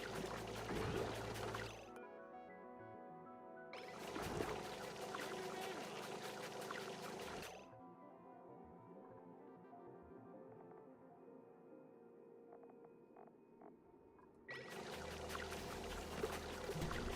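Dirty water pours down in bursts in the Oxygen Not Included colony game: loud splashing gushes stop and start with quieter dripping and trickling gaps between them, and no voices are heard.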